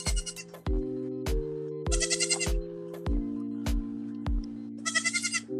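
Goats bleat repeatedly outdoors, several loud, close, wavering calls spaced a second or so apart, with a few sharp knocks between them and no talk.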